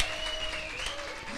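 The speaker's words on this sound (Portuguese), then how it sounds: "Aplauda ao Senhor, igreja." Church congregation clapping in praise during a worship service, a dense wash of hands mixed with sustained tones from music, fairly soft and brief.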